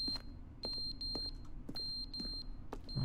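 Electronic alarm beeping in the video game The Stanley Parable, a steady series of sharp high beeps in quick groups, with low rumbling and thuds underneath.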